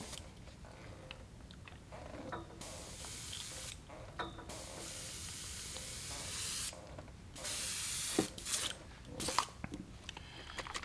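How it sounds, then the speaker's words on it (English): An airbrush being rinsed out between coats of paint sprays in repeated hissing bursts. Sharp gaps of quiet fall between the bursts, and the spraying is close and moderately loud. "I'll rinse the airbrush out"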